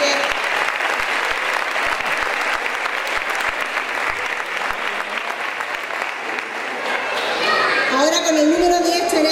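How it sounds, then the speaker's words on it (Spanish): Dense, sustained clapping from a crowd at a Partido Popular local election rally in May 2023, steady throughout and swelling near the end as an amplified voice and chatter come in. "Le damos un fuerte aplauso"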